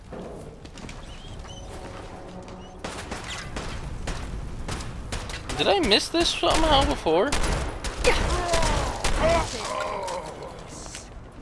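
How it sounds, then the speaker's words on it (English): Gunfire in Fallout 4 comes in scattered bursts and sharp cracks, sparse early then denser and louder in the middle, mixed with footstep-like clatter, with someone talking briefly over it. "Can we stop with the shooting now, please?"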